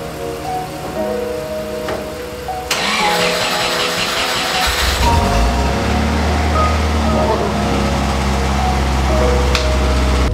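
A car's engine, just back together after a head gasket repair, cranks and catches, then settles into a loud, steady close-up run with a low rumble and a slightly sticky throttle.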